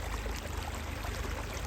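Water gushes steadily from a motor pump outlet in a farm field, a dense continuous rushing wash with a low pump hum underneath, close and unbroken.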